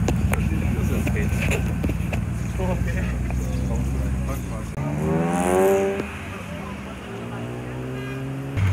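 Ferrari V12 engine revving at a supercar and classic car gathering at Tegernsee, rising in pitch near the middle of the clip amid steady crowd noise and other traffic, with people talking nearby.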